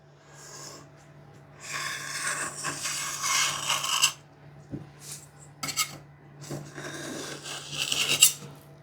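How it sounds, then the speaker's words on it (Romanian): Repeated scraping and rasping strokes of a knife cutting dough edges on baking paper, in bursts with short pauses, fairly close and without talk. "Acum cu un cuțit"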